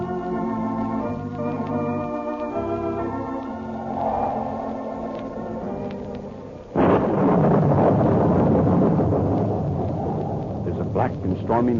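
Thunderstorm on a stormy night in Los Angeles: a sudden loud crack and rolling rumble of thunder with heavy rain breaks in midway, following a swelling dramatic orchestral score.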